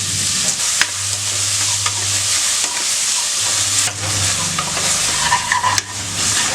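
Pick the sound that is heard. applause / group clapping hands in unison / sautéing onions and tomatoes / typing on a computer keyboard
sautéing onions and tomatoes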